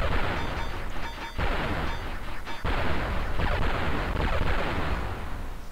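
Rockets fire in the Amiga game Silkworm, a dense run of loud blasts and booming impacts over a continuous rumbling game soundtrack, with sharp bursts repeating every second or so.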